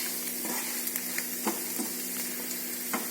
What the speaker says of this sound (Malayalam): ഇഞ്ചിയുടെയും വെളുത്തുള്ളിയും നല്ല ഫ്രൈ സ്മെല്ല് വന്നപ്പം ഞാൻ ഇതിനകത്തേക്ക് സവാള ആഡ് ചെയ്ത് കൊടുത്തിരിക്കുന്നത്.